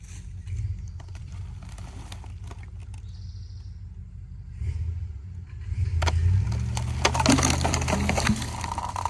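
A heavy log being rolled and cranked up into a truck gives woody creaks and splintering knocks over a low rumble, growing louder and busier toward the end.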